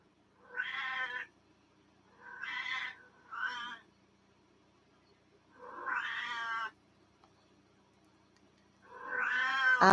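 A cat meows and complains in a series of five drawn-out, fairly close calls separated by short pauses, the last one rising louder at the end, in an otherwise quiet room.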